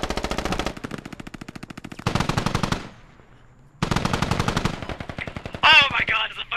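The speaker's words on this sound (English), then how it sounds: "Oh my god, it's a fucking machine gun!" Machine gun fire in the military shooter Squad, with long, loud, rapid automatic bursts broken by a short pause, close and dominant, plus a brief sharp sound near the end.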